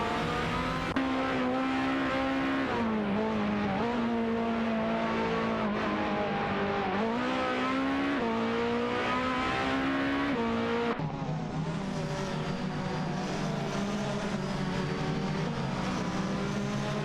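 Race cars in an AI racing simulation game, including a Praga and Palma Jaguar prototypes, drone steadily with layered engine whine and pitch sweeps as they shift, with a gear or camera change near the end and no talk over it.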